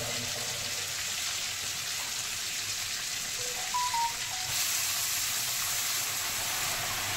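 Pieces of bottle gourd go into hot oil seasoned with bay leaf and nigella seeds, raising a steady, loud hiss of sizzling that runs unbroken with no talk.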